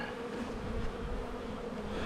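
A dense, continuous hum of many bees swirling around a swarm trap, steady and close with no voices.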